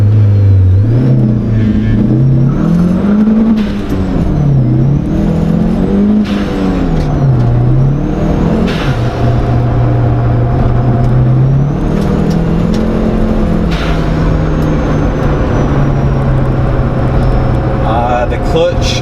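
Engine of a turbocharged Hyundai Tiburon running a DIY fuel controller, revving up and down while driving, with a rising and falling tone and uneven misfires, loud and close throughout under continuous talk from inside the car.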